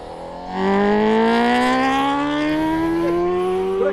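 A motorcycle engine idles quietly, then revs up hard, its pitch climbing steadily into a loud, sustained roar that holds to the end with no one talking.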